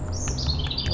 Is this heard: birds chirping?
yes